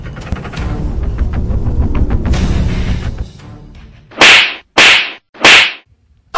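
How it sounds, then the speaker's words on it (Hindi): Three sharp, loud slaps to the face land in quick succession after a stretch of busy background noise, each crack separated by a brief silence, in a comic Hindi sketch. "बड़ा हल्के थप्पड़ मारा साले ने"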